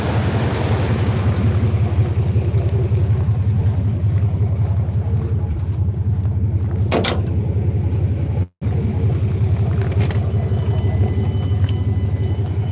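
A BMW and a 1985 Chevy classic car idle after a cold start, giving a loud, steady, close low rumble that runs on without a break for the whole stretch, with one very brief dropout.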